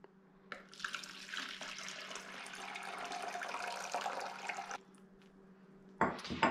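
Tap water runs steadily into a container on a kitchen scale while pizza dough water is measured, a continuous close pour lasting about four seconds before stopping, followed by a brief clatter.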